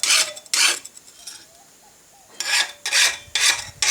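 A metal file rasps across a steel lawn mower blade in short, harsh strokes: two quick passes, a brief pause, then four more in a steady rhythm, close and clear.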